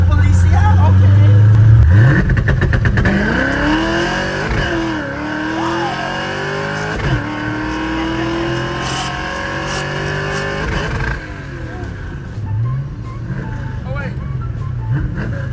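A 1967 Ford Mustang engine revs hard against two-step launch control, bursts of loud popping revs giving way to a lower rumble and fading; voices talk over parts of it.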